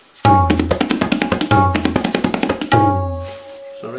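Tabla playing a kaida phrase in three quick bursts of rapid, crisp strokes, resonant bass strokes under ringing high tones, close and loud, then a sustained ring fading out.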